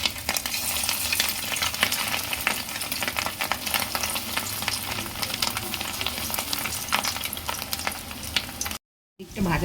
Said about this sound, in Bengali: তেলে দিচ্ছি, তেল গরম হয়ে গেছে